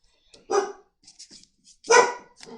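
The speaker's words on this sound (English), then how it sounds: "My dog's going nuts." A protective dog indoors lets out two loud, close barks at someone outside, with soft huffs and small noises between them.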